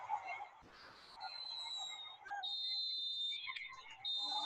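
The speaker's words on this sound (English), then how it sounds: "And the referee blows her whistle." A referee's whistle at a women's football match between Canada and New Zealand, a bright sustained tone held for a second or two and repeated, over a stadium crowd's murmur.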